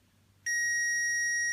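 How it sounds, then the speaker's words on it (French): A multimeter in continuity mode sounds a steady, pure electronic beep while testing a MOSFET between source and drain. The tone starts abruptly after a quiet moment and holds loud and unbroken. "Normalement ça devrait biper."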